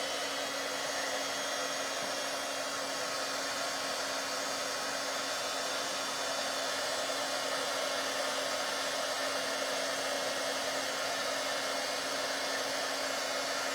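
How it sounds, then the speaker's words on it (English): A heat gun blows steadily for embossing paste on a Christmas craft, a loud, even electric whir and rush of air with a constant hum, unbroken and without speech. "I'm going to put on my heat gun, so it'll be a little bit noisy for a moment"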